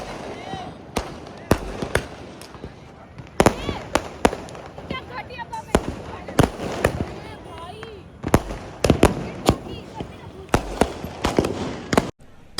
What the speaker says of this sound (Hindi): देखो पटाखे तो मैंने भी फोड़े